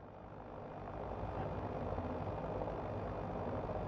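A Hiller UH-12B helicopter in Microsoft Flight Simulator hums with a steady, fairly quiet engine and rotor drone that swells slightly in the first second, then holds even, with no voices.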